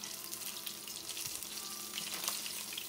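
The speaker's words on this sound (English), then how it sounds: "we're gonna fry the second batch" Quiet, steady sizzle and crackle of a second batch of shark frying in hot oil for bake and shark, a soft bubbling hiss running continuously without any talk.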